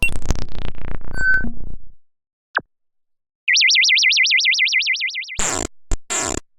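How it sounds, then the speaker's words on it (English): Chiptune-style game sound effects generated with sfxr: a string of rapid blips, a quick downward zap, a long warbling vibrato tone, then harsh noisy bursts. "I found the perfect sound effects for our game"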